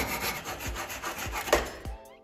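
A handsaw rasps back and forth through a piece of wood for a cigar box ukulele in steady strokes, close by, the cutting stopping abruptly near the end.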